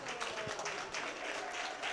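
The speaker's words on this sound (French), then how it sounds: "Je voudrais qu'on l'applaudisse." An audience at a graduation ceremony claps steadily for a top-ranked graduate, a dense, even wash of applause filling the hall for a couple of seconds.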